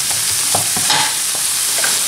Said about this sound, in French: Je vais mélanger avec du persil également.